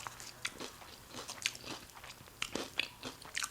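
Crunchy bites and chewing of onion in a Dairy Queen Jalito Ranch burger, close and repeated in irregular bursts with no talk.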